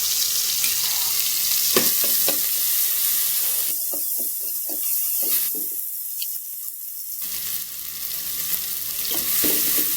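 Oil sizzles steadily in a pan while ingredients are stir-fried for a Lao-style coconut shoot curry, with scraping clicks from the utensil and a couple of brief dips where the hiss drops away.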